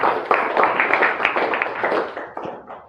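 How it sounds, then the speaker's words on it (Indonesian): Classroom students applaud a group after a computer-assembly exercise, a short burst of many hands clapping together at moderate loudness that tapers off toward the end. "Kita beri tepuk tangan kepada kelompok 1"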